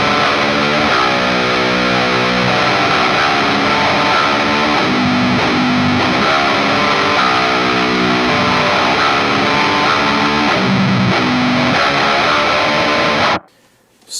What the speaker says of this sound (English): the idea here was to kind of make an all-in-one distortion pedal that kind of has all the features to be self-sufficient in front of an amp